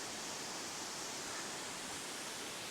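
Water cascades down Panther Falls into pools below, a dense unbroken rushing roar from the cold waterfall, steady and close with no pauses or voices.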